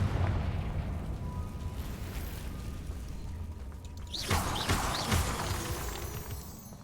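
A Confringo spell blast in Hogwarts Legacy, a sharp crackling burst followed by a fiery explosive whoosh and debris clatter over a steady low game ambience.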